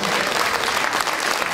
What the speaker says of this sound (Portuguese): E uma salva de palmas para ele